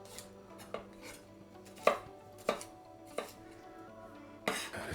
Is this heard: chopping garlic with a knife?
yes